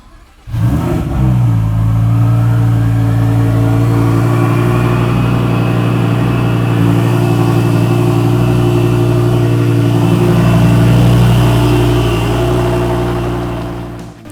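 A 2015 Lamborghini Huracan engine starts with a sharp crank and roar, then settles into a loud, steady, deep idle that rumbles on without a break, close to the listener.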